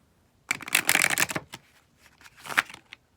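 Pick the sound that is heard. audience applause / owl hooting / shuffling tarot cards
shuffling tarot cards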